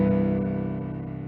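A rich piano seventh chord already sounding, its notes sustaining together and gradually dying away.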